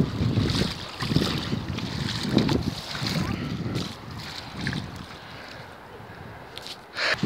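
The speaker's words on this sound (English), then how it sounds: "And so we get closer to the edge of the sea." Sea waves wash in at the shoreline in rolling surges, loud and close with gusty wind buffeting the microphone, fading slightly toward the end.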